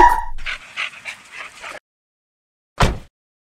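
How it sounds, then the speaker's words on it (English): A dog whimpers and yips briefly, a short high whine followed by a pause and one more short sharp yelp, close by with no talking. "A dog?"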